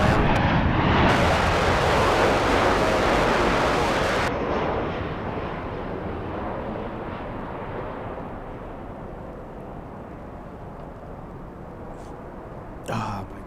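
An Airbus A380 airliner at Los Angeles airport, its engine roar loud and broad at first, then fading to a distant rumble, with a voice talking briefly near the end.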